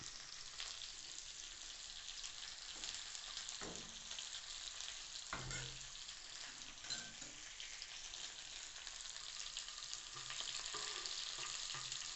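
Curry leaves and shallots fry in a pan for pazham moru curry, giving a steady, faint sizzle and crackle with occasional stirring scrapes.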